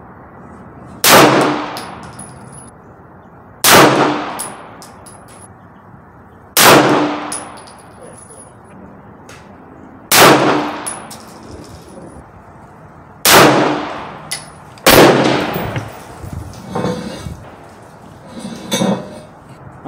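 Five 9mm shots from a Lion Heart LH9 pistol at an outdoor range, each a loud crack followed by a bright metallic ring off a steel target, spaced roughly two to three seconds apart, with fainter distant shots trailing at the end.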